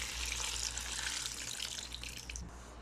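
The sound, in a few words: water being poured into a cooking pot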